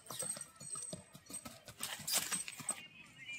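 Horse hooves clip-clop on a farm that also has cows and birds of prey, with steady, close, rhythmic thuds. People talk over the hoofbeats throughout.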